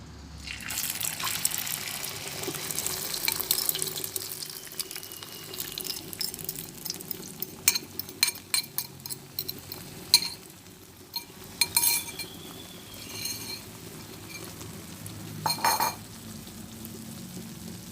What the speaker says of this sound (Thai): ตอนนี้น้ำมันร้อนแล้วนะคะ เราก็จะ ค่อยๆเท ไข่ใส่ลงไปนะคะ